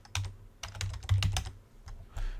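Someone types on a computer keyboard in quick, uneven bursts of close, crisp key clicks separated by short pauses, with no talking.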